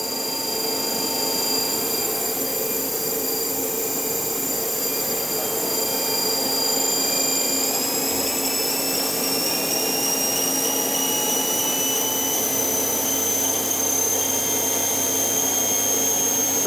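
The spindle of a 1993 Makino KE-55 machine runs at 3000 rpm with a steady, high, close whine. The pitch shifts slightly partway through, and no voices are heard.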